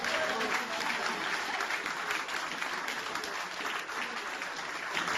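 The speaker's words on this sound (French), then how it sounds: "On applaudit très fort." A crowd applauds the winner of an international open chess tournament at its prize ceremony: dense, sustained clapping, loud and even, filling the whole stretch without pause.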